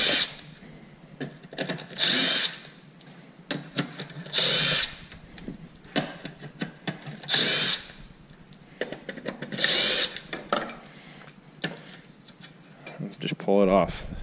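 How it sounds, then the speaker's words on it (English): Power drill or impact tool unbolting a bracket during installation of a Torklift EcoHitch 2-inch trailer hitch on a car, giving several short loud whirring bursts a couple of seconds apart with quieter clicks and handling noise between them. "And then we're going to unbolt this bracket."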